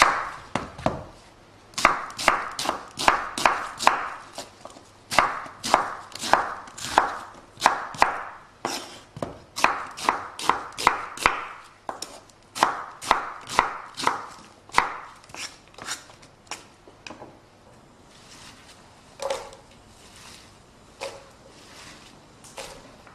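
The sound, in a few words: chopping Spanish onions with a knife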